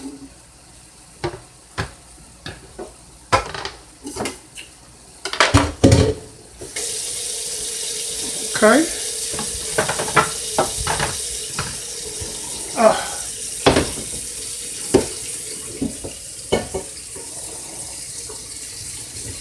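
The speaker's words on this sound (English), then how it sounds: "I'm going to fill it halfway with water." Hot tap water runs into a stock pot for beef stew in a home kitchen, a steady hiss after scattered clinks and knocks, with a brief spoken word early on.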